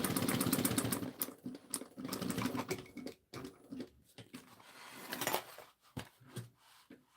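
A sewing machine back stitches a seam, its rapid stitching chatter coming in uneven stop-start bursts mixed with clicks and handling noises, fairly quiet overall.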